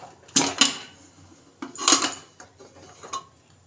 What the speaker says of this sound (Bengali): এখন আমি ঢাকনাটা খুলব।